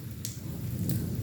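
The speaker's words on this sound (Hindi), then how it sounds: "बारिश भी बहुत ज़्यादा हो रही है आज।" Heavy rain falls steadily as a dense, even hiss, with a couple of brief brighter splashes standing out, and no voices.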